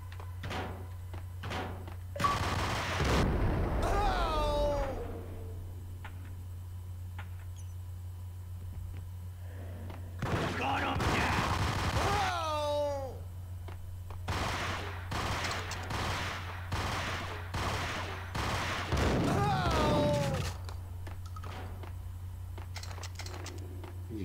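Gunfire from the video game Max Payne, a few loud bursts of shots spaced several seconds apart over a steady low hum, with quieter clicks and pops between them.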